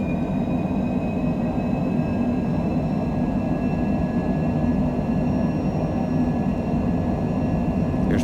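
An aircraft at John Wayne Orange County airport rolls for takeoff, its engines holding a loud, steady roar with a high whine on top, heard from inside the cabin.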